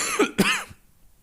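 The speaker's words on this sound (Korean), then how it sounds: "계속 기침이 나와서 한번 하면 멈추지가 않아서" Two sharp coughs in quick succession from a preacher during an early-morning church sermon, close and clear, then quiet with no talk.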